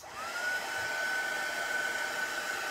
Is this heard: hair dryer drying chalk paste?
yes